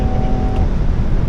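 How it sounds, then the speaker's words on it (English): BMW M3 Competition exhaust on a track day, a loud, continuous low engine drone with a steady tone, close and dense for about a second, no talking. "And this exhaust sounds fantastic"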